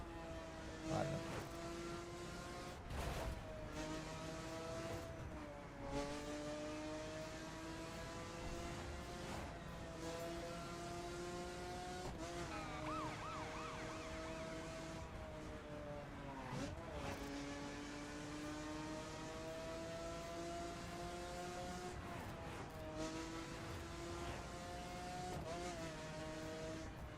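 A Ford Mustang drives in the racing video game The Crew, its engine a steady sustained drone with rising and falling revs and gear changes throughout, loud and continuous with no talk.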